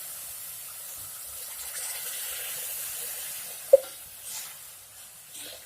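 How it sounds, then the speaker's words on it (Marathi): Water is poured into a cooking pot holding oil and lentils for a spring onion greens dish, giving a steady, fairly quiet rushing hiss with a single sharp clink partway through. "पाणी टाकायचं आपल्याला"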